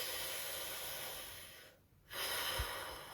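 A long hissing inhale of sitali pranayama breathing, steady airy rushing that briefly stops, then resumes with a fresh breath, close and fairly quiet.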